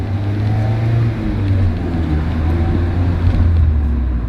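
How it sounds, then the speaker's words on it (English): A rear-wheel drive sports car idles at a standstill, a steady low, smooth engine hum with slight fluctuations and no other sounds over it. "Now just sitting there idling, you can see it's a quiet car."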